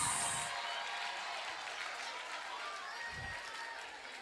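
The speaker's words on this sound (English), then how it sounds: "Can we clap for the aggressors?" An audience at a jurisprudence symposium claps, a sustained wash of applause that fades gradually, with a voice briefly heard near the start and again near the end.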